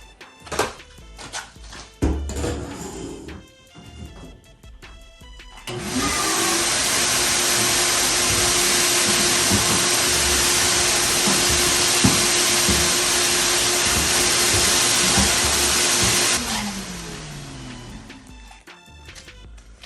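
Handling noises and clunks lead into a loud, steady vacuum roar that sucks fluid out of a Chevy Camaro fuel tank during fuel pump removal, running about ten seconds with gurgling bumps before the motor winds down, without speech.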